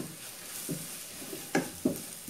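Chicken masala being stirred in a frying pan, with a soft continuous sizzle of oil broken by a few scraping strokes of the spoon, including two sharper knocks near the end, close and unaccompanied by talk.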